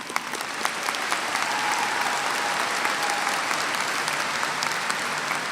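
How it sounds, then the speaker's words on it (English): Standing audience at a 2022 San Marcos High School graduation ceremony applauding campus and central administration staff, sustained, even clapping from a large crowd throughout, with a few sharper individual claps near the start. "let's give a round of applause for all our SMCISD campus and Central admin"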